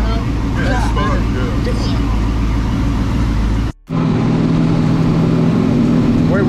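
A boosted Cadillac CTS-V roars loudly on a dyno with a steady heavy engine drone, cut by a brief dropout, while people talk over it.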